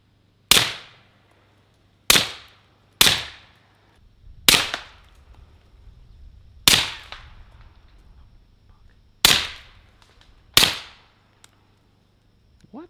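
Seven sharp, separate shots from a suppressed Rock Island 1911 .45 ACP pistol at steel targets, sounding as crisp cracks with short decays, spaced unevenly by one to two seconds and heard alone with no talking.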